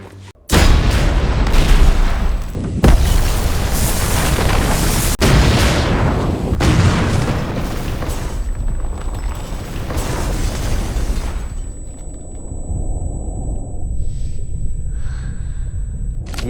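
Loud, continuous barrage of explosions and heavy military weapons fire in a brutal, organized dawn assault on a gang headquarters, booming blasts and bursts running back to back before easing into a lower rumble near the end.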